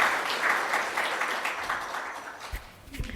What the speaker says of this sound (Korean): 우리 격려의 박수 한번 드리도록 하겠습니다